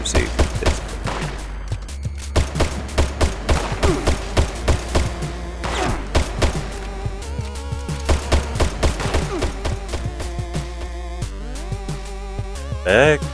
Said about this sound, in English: It sounds like a proper Crusader pistol.